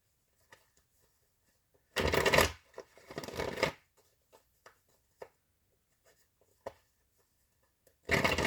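A Fearless Oracle card deck is shuffled in two brisk riffling bursts with scattered small taps and handling sounds between them, close and fairly quiet, with a third burst starting at the end.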